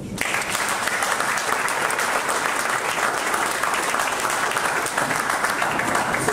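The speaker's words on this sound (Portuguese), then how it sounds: "uma salva de palmas" An audience at a talk gives a round of applause, dense and sustained clapping from many hands that starts abruptly and stays loud and even throughout.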